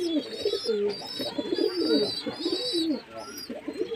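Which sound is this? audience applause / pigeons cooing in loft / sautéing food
pigeons cooing in loft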